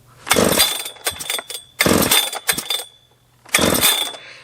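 Husqvarna 3120XP chainsaw, ported with an upgraded ignition, revving loudly in three long bursts at fast idle with brief drops between, close and alone with no talking.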